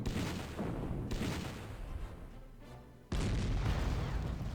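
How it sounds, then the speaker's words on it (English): A heavy tank fires at a Sherman in the war strategy game Panzer Corps, producing loud, dense booming blasts that fill the scene, with a short lull before another heavy burst near the end. "let's send in the heavy tank to take out the Sherman."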